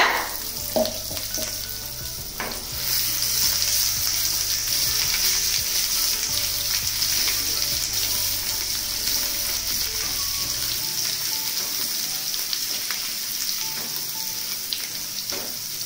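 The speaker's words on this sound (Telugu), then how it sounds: "ఈ కారం ఇందులో వేసి వేగనిద్దాం కొద్దిసేపు." Chili powder sizzles and fries steadily in hot oil while onion chutney cooks in a pan, a loud, continuous close crackle that holds without pause throughout.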